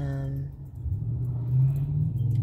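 Car driving by on a rock-strewn road kicking up dust, a low engine rumble that builds and passes close by, with a voice speaking over it.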